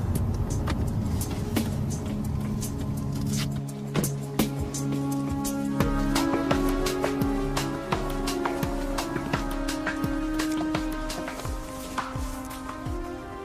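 A Dodge Charger engine idles with a steady low rumble, ringing metallic clanks and knocks over it at an irregular rhythm, held at a fairly even level throughout with no voices.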